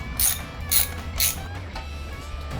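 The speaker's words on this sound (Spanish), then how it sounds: "Ahora vamos a quitar el tornillo, la bomba de los frenos." Metal tools work a bolt loose on the brake pump of a 1998 Harley-Davidson Sportster 883, with three sharp clicking bursts spaced about half a second apart, then quieter mechanical handling in a workshop.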